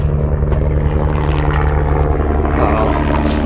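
A helicopter drones steadily overhead in the desert during the Marathon des Sables, a loud continuous engine and rotor rumble with no talk.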